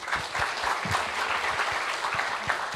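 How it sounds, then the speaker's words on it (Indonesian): An audience at a debate event claps steadily, a dense, even round of applause that continues throughout at moderate volume. "Tepuk tangan untuk Ayah."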